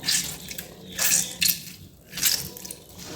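Water splashes and runs out of homemade mozzarella cheese curds as they are drained, coming in three or four close, fairly loud gushes with short pauses and dripping between them, and no talking.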